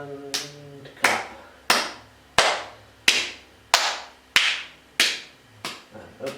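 Single sharp hand claps ring out one after another at a steady pace during a yoga exercise, each crisp and close with a short decay, about nine in all.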